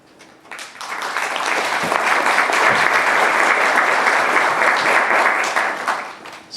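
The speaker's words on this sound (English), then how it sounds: "the audience could give you a warm round of applause" An audience at a national spelling bee in South Africa gives a warm round of applause for the representatives, the clapping swelling up quickly, holding full and steady for several seconds, then fading out.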